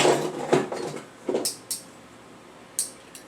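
Plastic cooking spoons knocked and rattled together in a kitchen drawer, a few sharp light clacks and taps spaced irregularly, fairly close and fading toward the end.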